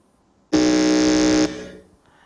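During a buzzer check at a regional junior high school quiz contest, a contestant's electronic buzzer sounds once after a quiet moment, a loud, flat, harsh tone lasting about a second before stopping abruptly and fading out.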